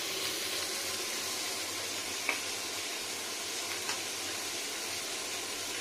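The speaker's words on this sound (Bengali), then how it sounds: "দেখুন কত সুন্দর ভাজা যাচ্ছে।" Small fish frying in hot oil in a pan give a steady, close, even sizzling hiss with a couple of faint pops, and no one talks.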